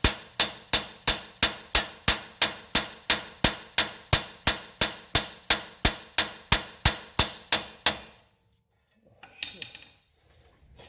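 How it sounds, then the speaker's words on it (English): A hammer bangs on a suspension part of a 2020 Toyota 4Runner with KDSS during an Ironman4x4 front lift install. About twenty sharp metallic strikes land in a fast, even rhythm, close and loud, followed by a pause and a few faint clinks. "So now I have to bang it here with the hammer to take"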